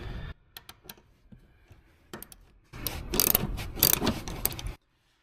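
A ratchet wrench loosens a 14mm bolt inside a 2020 Toyota Tundra cabin, with a few scattered clicks, then a dense, loud run of rapid ratcheting for about two seconds before it stops.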